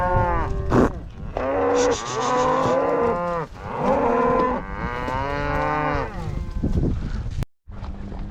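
Cattle on a ranch lowing in long, loud, drawn-out moos, several animals calling one after another close by, with light wind noise and a brief knock near the end.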